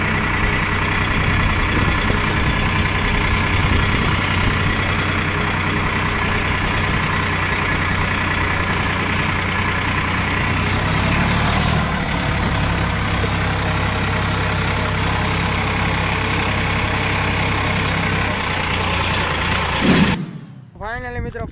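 A tractor engine runs with a steady, loud low rumble and mechanical drone that holds constant for about twenty seconds, then cuts off abruptly near the end.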